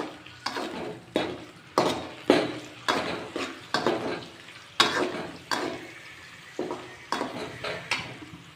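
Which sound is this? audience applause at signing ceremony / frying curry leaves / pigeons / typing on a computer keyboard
frying curry leaves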